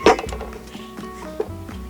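A spoon strikes and grinds garlic with other ingredients in a bowl, giving a sharp clink at the start, then softer scraping taps and a second clink near the end, close and fairly loud.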